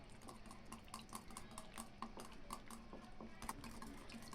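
Chopped capsicum, onion, curry leaves and coriander are stirred together in a bowl with a spoon, giving a quick, steady run of close scraping and clinking taps.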